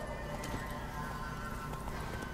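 Rhythmic hoofbeats of a horse in The Witcher 3 video game clatter at a quick, steady pace, close and fairly loud over a constant low rumble.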